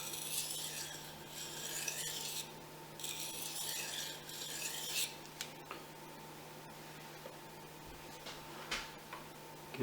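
Light strokes of a Fujimoto honesuki knife on a Japanese waterstone make a soft, steady rasping scrape in bursts, then fade to faint ticks and rubs over a quiet room hum.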